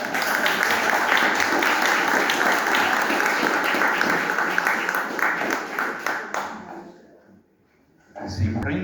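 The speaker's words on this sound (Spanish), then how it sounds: "Un aplauso, por favor, para el doctor." Loud, dense applause rises from an audience at a book presentation, honouring a doctor, then thins and fades out around the seven-second mark before a voice starts speaking.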